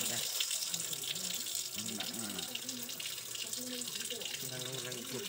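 A tap runs in a steady, close hiss as water pours into a basin, continuing evenly throughout while a person talks over it.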